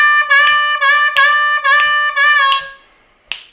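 A C harmonica plays the rhythm of a song in a string of bright, reedy chord bursts with short breaks between them, loud and close, ending in a fading tail and one sharp click.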